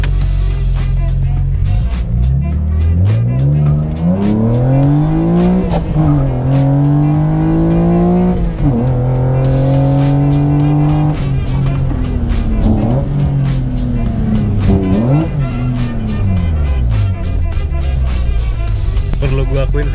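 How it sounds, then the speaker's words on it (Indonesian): BMW E36 or E46 driven hard on a test drive, its engine pulling through repeated rising sweeps between gear changes, loud and close throughout, with a voice talking over it at times. "Oke, barusan dikasih sama Mas Hakim kalau ngegas jangan ragu-ragu."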